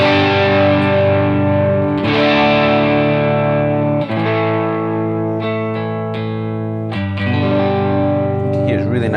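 Electric guitar on a neck single-coil pickup through an Xotic SL Drive pedal at low gain, sustained chords with mild overdrive grit, several fresh strums and a few higher picked notes, loud and close with no talk.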